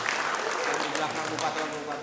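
An audience at a community development planning meeting claps in a steady burst of applause, with a voice talking through it.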